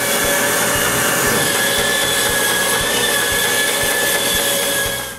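A power saw cuts steadily through a wooden rocking-chair part being trimmed square, a loud continuous whine with rhythmic low thumps, close and without talk.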